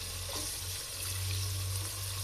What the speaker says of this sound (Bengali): এবার পেঁয়াজ ভাজা হয়ে গেছে